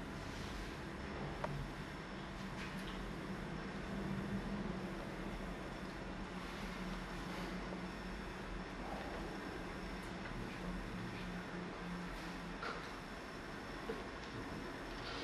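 Near Dresden, a train rolls past railway signals with a steady, low rumble of wheels on rails and occasional faint clicks and squeals, continuous and fairly distant throughout.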